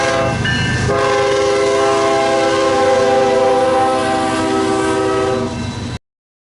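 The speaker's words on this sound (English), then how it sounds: "I'll even play a little clip here of the train going by with the sound" A train goes by sounding its horn in a long, loud, sustained multi-tone blast over the rumble of passing rail cars, ending abruptly.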